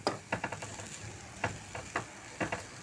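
Wild monsoon vegetables (pevga greens) being stirred in a pan with a spoonful of coconut oil, giving soft sizzling under repeated scraping strokes of a spoon against the pan in an irregular rhythm, close and fairly quiet.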